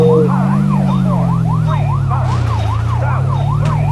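Police car sirens in a video game wail loudly and continuously, rising and falling in quick repeated sweeps over a steady low engine drone.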